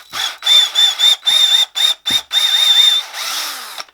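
A power drill spins 150-grit sandpaper while shaping wood for a floating shelf, whirring loudly in about eight short bursts before a longer final run that slows and fades.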